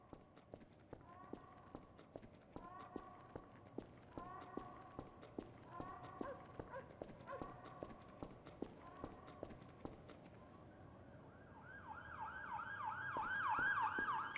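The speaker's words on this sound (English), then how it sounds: "the occasional echoing siren with no clear source" Wailing siren echoing through an empty Garry's Mod city map, rising steadily and growing louder over the last few seconds, following a stretch of rhythmic clopping footstep-like sounds.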